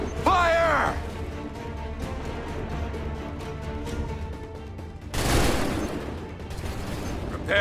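A musket volley from Assassin's Creed 3 erupts as one loud, broad crashing blast partway through, set against a continuous battlefield din with shouting voices near the start.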